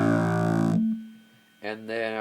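An electric bass plays the opening of a riff with a thick, driven tone. A loud low note rings, then dies away, and a voice starts speaking near the end.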